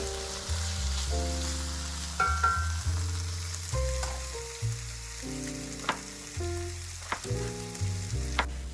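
Bell peppers sauté in a pot for ratatouille, a steady close sizzle and frying crackle with a few brief stirring clinks over the whole stretch, no voices.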